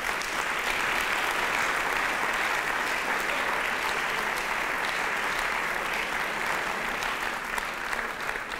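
Steady, dense applause from a large audience greets the winner of the 2016 international contest at a Swiss science-talk final, sustained and even for the whole stretch.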